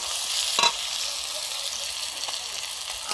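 Garlic paste frying and being stirred in a hot pan, a steady close sizzle with a brief scrape of the spatula early on, no talking.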